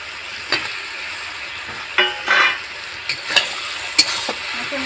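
A fish head fries in a pan under a low, steady sizzle, broken by several sharp scraping stir strokes of a spatula at irregular intervals.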